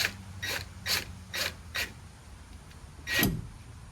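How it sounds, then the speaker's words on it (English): An impact wrench fires in four short, evenly spaced mechanical bursts, then one longer burst after a pause, tightening a steering wheel down in a workshop with no one speaking. "Now I realize I'm using an impact wrench,"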